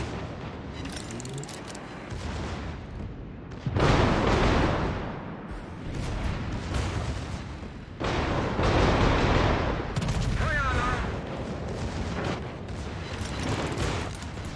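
Heavy naval guns of the Hannover battleship in World of Warships boom in repeated salvos, with thick rumbling blasts swelling and overlapping into a continuous roar, loud and close throughout.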